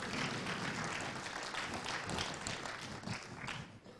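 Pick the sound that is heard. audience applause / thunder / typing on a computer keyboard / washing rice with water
audience applause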